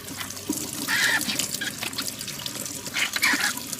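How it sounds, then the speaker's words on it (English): Water from a tap runs into a container being washed out, a steady splashing, gurgling stream with small bright drips over it, close and continuous. "You can hear the water going in."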